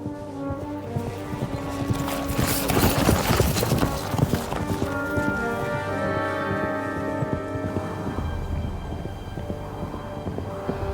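Horse hooves clip-clop steadily in a video game, a rhythmic run of hoof strikes over layered game music and ambient sound, fairly close and continuous throughout.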